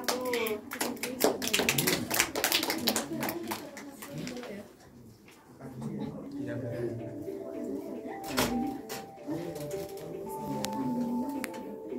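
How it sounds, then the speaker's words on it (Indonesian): Students in a classroom clap together for a group in a dense burst of many hands during the first few seconds, which thins to scattered claps as a voice carries on talking. "Tepuk tangan untuk kelompok 1."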